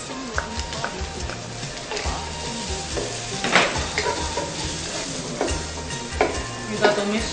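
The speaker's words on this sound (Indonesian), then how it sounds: "Kita tumis sampai harum" Garlic, onion and leek sauté in a wok with a steady, dense sizzle, broken by repeated scraping and knocking strokes of a stirring utensil throughout.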